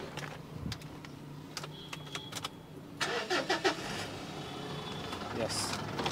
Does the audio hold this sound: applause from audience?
no